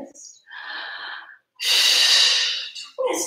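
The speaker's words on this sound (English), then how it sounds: "Three deep breaths." Deep breathing during a Pilates stretch in a home workout, several long, close breaths in and out, each a breathy rush separated by short pauses, with no talking over them.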